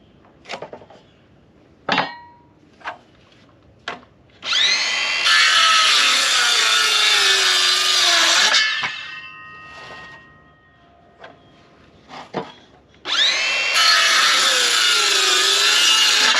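Power saw cutting wood boards to 17 inches for a goat milking stand, two loud sustained whining cuts each lasting a few seconds, separated by scattered clunks and knocks of boards being handled.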